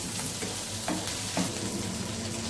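Cut tomato pieces fry in a pan for a village-style coriander-mint chutney, giving a steady, close, dense sizzle with a few soft stirring knocks and no voices.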